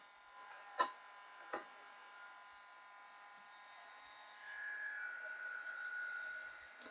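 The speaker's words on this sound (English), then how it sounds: "So let my heat gun warm up a little bit." A heat gun warms up with a faint, steady electric whir and hiss, a couple of small knocks early on, and the airy noise swelling slightly toward the end.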